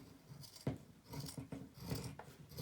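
Scissors cut through old quilt fabric up close, giving faint, crisp snips and crunchy shears spaced irregularly, with a few sharper clicks as the blades close.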